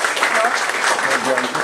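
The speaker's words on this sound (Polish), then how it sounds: "Gorące brawa, zapraszamy." Brief burst of applause from the audience at a cornerstone-laying ceremony, clapping under an announcer's amplified voice.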